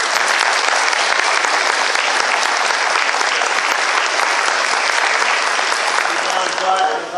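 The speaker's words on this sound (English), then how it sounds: "and we give them a round of applause." An audience gives a round of applause for the Goldbug ambassadors at the AHS Distinguished Goldbugs ceremony, with dense, loud, continuous clapping from a large crowd throughout before tapering at the close.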